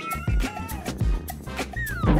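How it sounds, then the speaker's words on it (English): A cat meows a few times in short calls over a busy background with rhythmic low thumps and other sounds, the meows moderately loud. "C is for cat."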